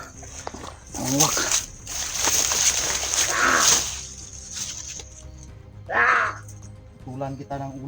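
A man imitates a crow, repeating harsh caw-like calls in short bursts over outdoor background noise, with speech between the calls.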